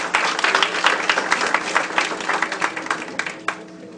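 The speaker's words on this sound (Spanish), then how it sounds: "Bienvenido, un aplauso." An audience at a forum on gender equity claps in a full, steady round of applause that thins toward the end, with some scattered crowd noise underneath.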